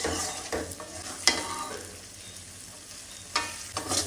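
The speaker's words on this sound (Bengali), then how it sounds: "চিংড়ি মাছটা মশলার সাথে ভালো করে কষিয়ে নিচ্ছি।" Shrimp stir-fried with spices in a pan, a steady sizzle with several sharp scraping strokes of a spatula at irregular intervals, close and fairly loud, with no talking.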